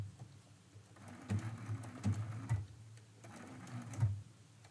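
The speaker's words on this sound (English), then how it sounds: "I'm still stitching that down." A sewing machine stitching down a quilt appliqué stem, running in two stretches of fast rhythmic needle chatter separated by a brief slower pause, close and fairly quiet.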